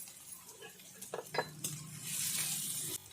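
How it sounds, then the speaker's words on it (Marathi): Onion and green chilli sauté in a pan for a Kolhapuri misal, sizzling steadily while a spoon stirs and clinks against the metal, the frying growing louder toward the end. "परतून घेऊ आता कांदा मिरची व्यवस्थित अशी परतून झालेली आहे"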